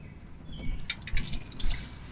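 Warm engine oil draining from a Nissan Xterra during a fluid change, heard as a soft trickle with scattered drips and small splashes, fairly quiet and steady.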